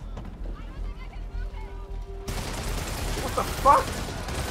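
Rapid gunfire in the video game Spider-Man (PS4), a dense burst of shots that begins partway through under game music and effects, with a voice speaking briefly before it.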